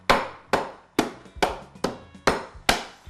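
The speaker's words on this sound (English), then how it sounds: "if you use a heavy cleaver, you can just kind of pound them out so that they get crushed" Heavy cleaver pounding peanuts on a board, seven sharp evenly spaced thuds close up, each with a quick decay, no talking.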